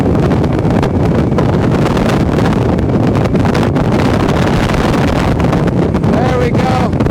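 Tracker Pro Team 175 TXW bass boat pushed by a 75 HP Mercury outboard at wide-open throttle, a steady loud engine drone with rushing water and heavy wind buffeting the microphone throughout.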